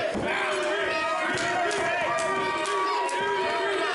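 Wrestling crowd at a PPW PowerSlam TV event rumbles and calls out to rally a worn-down wrestler, with scattered ring slams and thumps cutting through the steady crowd noise.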